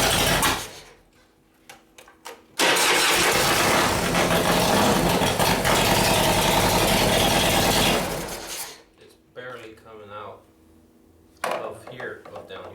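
An S&S 93ci Evo engine in a 1999 Harley panhead bobber with no oil pressure is cranked, catches and roars loudly up close for about six seconds, then winds down and cuts out, after which people talk.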